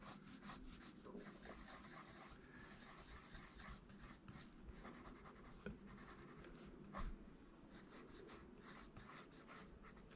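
An Eagle Verithin Sky Blue pencil draws lines on good-quality paper, a faint, close scratchy rubbing in repeated strokes of varying length with brief pauses between them.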